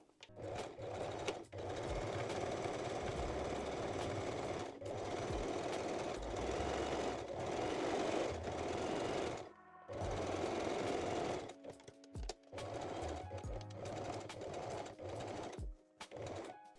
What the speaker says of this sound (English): I'm using regular zigzag stitch